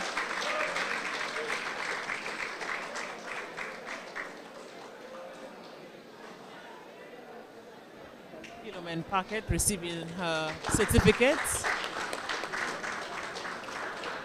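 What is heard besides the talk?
audience applause for a farmer receiving an award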